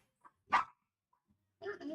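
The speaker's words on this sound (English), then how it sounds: "I apologize for the dog barking" A dog gives a few short barks close by, one sharp bark standing out, followed by a brief burst of whining or vocal sound, indoors at a home setup.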